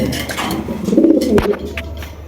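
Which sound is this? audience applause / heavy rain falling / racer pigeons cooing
racer pigeons cooing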